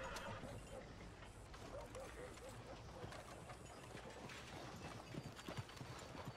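Horses in the Red Dead Redemption 2 video game, with rhythmic hoof clip-clop and a whinny amid game ambience, quiet overall and partly under voices talking.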